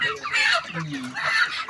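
Broiler chickens at a village poultry farm cluck close by in two short, busy bursts over a low background murmur.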